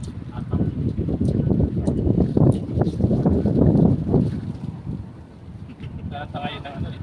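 Wind blowing at sea around a small fishing boat, a loud, gusty rumble buffeting close by, with voices talking through much of it.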